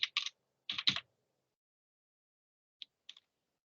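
Short bursts of computer keyboard typing, a quick cluster of keystrokes followed by a pause and a few faint isolated taps, close and quiet with no talk.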